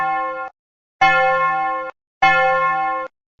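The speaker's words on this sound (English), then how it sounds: "This ringing sound is due to the vibration of the bell's gong." A hand bell rings three times, each a bright, clear metallic tone held for about a second before stopping abruptly, loud and close.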